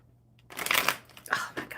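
A deck of cards is shuffled close up in a few quick riffling bursts of papery rustle and flutter after a brief quiet start.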